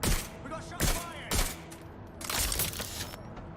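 Bursts of gunfire in the video game Watch Dogs Legion, with several loud, close volleys in quick succession followed by a longer rattling stretch.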